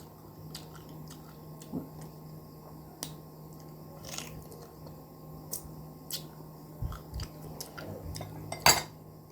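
Close-up crunchy chewing of sweet, unripe-crisp mango, with soft bites and wet munching at irregular intervals, plus a few sharper crunches, in a quiet room with no talking.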